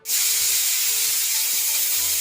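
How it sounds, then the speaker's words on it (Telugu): Loud, steady hiss of steam escaping a pressure cooker whistle while cooking chickpeas, a continuous rushing whoosh that starts abruptly and holds without pause. "కుక్కర్కి మూడు విజిల్లు వచ్చేసాయి"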